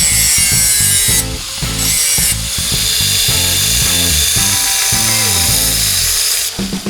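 Angle or bench grinder chamfering the edges of sheet metal pieces, a loud continuous whine with shifting, rubbing tones as the metal is worked, alone without talk.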